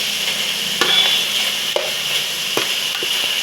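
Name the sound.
chicken pieces frying in a pan for fried rice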